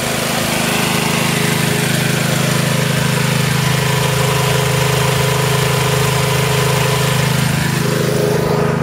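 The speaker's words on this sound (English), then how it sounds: "what we're using to keep this sucker going right now is this compressor over here" An air compressor runs continuously to drive a tandem airlift water well pump, with a loud, steady mechanical drone and hum that holds constant throughout and no talk over it.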